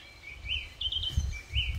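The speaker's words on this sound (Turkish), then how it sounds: "Burada kuş sesleri çok güzel." Birds chirp and sing in a strawberry garden, a few short high tweets in quick succession over low rustling outdoor background, moderately close and alone.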